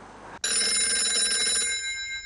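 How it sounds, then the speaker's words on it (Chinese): A telephone bell in a military command post starts ringing suddenly after a brief hush, then rings loud and steady and close by, its bright metallic tone filling the rest of the moment with no voices. "刚进指挥所，电话铃突然响了起来"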